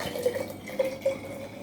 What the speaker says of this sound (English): So all we need to do now is add the vinegar into the jar.